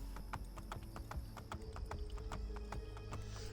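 Horse hooves clip-clopping in Assassin's Creed Brotherhood, a steady rhythmic gait of crisp hoof strikes on hard ground over a low hum, continuous and fairly close.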